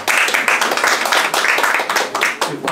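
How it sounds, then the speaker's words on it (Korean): At a Korean book launch event for a collection of writings on tea, the gathered audience claps in a lively burst. The clapping is close, with a loose, pulsing rhythm, and lasts a few seconds. "다 같이 박수 쳐주시기 바랍니다"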